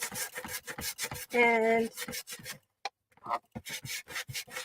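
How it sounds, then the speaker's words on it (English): Sandpaper rubbing on a painted surface, short rasping strokes in quick rhythm close by, with a brief pause and a speaking voice in between. "But I just hit it with the sandpaper"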